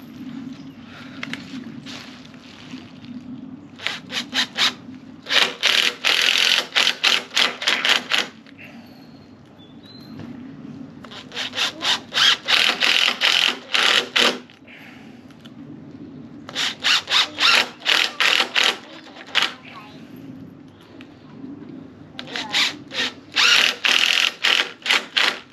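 A power driver sets black screws into external door hinges in four separate runs of rapid, loud, ratcheting bursts, with quieter gaps between them.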